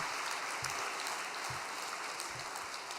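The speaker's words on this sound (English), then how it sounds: "Why don't we give them a big round of applause of encouragement?" Congregation at a church vigil gathering applauds steadily, a dense continuous wash of many hands clapping that fills the space without pause.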